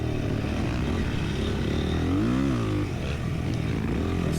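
Dirt bike engine racing through a GNCC off-road event at Wild Boar, a constant throaty drone with a brief rise and fall in revs midway, close and loud.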